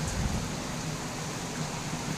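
Heavy rain pours down in a steady, dense hiss that fills the whole moment, even and unbroken, with no voices.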